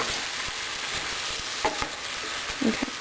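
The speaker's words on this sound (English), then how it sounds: "Just mixing gently." Shrimp pasta with homemade noodles being gently stirred in oil in a pan over low-medium heat, a steady soft sizzle with a few light scraping knocks near the end, close and continuous.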